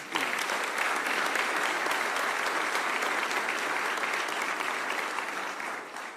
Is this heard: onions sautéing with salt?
no